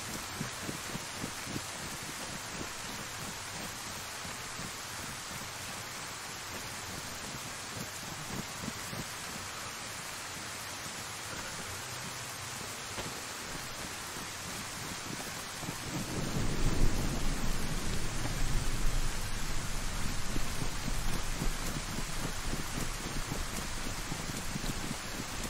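Heavy rain hisses continuously during a thunderstorm in the video game DayZ, and a deep roll of thunder swells partway through before fading back into the steady downpour.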